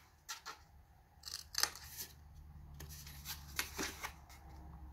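Scissors snipping through patterned paper for a Mintay Sunset Beach scrapbook album page, a few short crisp cuts scattered across the stretch at close range over a low steady hum.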